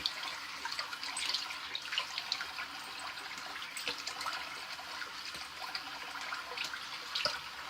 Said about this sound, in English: gonna rinse with the warm water.